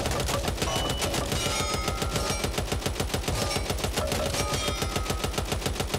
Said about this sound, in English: So this is a light machine gun.